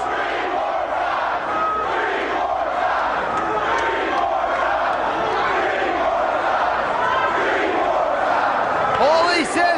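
A wrestling arena crowd at an ECW event chants and roars in a dense, sustained wall of voices, with a commentator talking over the noise.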